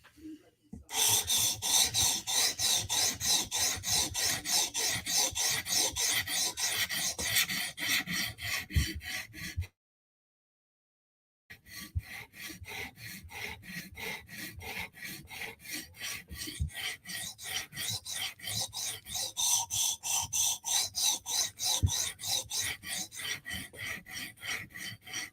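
Vero Synapse and Berg skate blades rasp in long, rhythmic back-and-forth strokes against a sharpening stone, loud and close, with one short silent gap midway.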